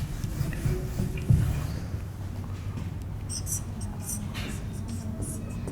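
Chalk or marker scratches across a classroom board as a chemistry equation is written, soft, close tapping and scraping strokes in short bursts, with faint murmuring early on.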